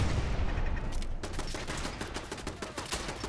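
Gunfire in Fallout 4 as a shotgun and other weapons trade shots, a loud, muffled opening giving way to a fast string of sharp cracks.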